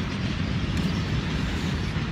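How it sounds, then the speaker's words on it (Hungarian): A train pulls into a station, giving a steady, loud rumble of wheels and rail noise that holds evenly throughout with no voices over it. "Éppen jön a vonat, minden."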